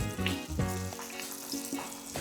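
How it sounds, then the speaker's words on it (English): Turon, banana spring rolls, sizzle and crackle as they fry in oil in a pan, a steady close hiss with small popping bursts and no talking. "I'm going to put all of this into the pan and just make sure that you're not overcrowding it."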